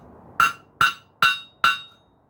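Four evenly spaced, sharp ringing hammer blows on a mild steel belt buckle held cold over an anvil horn, each strike bright and metallic with a short decay, close and loud.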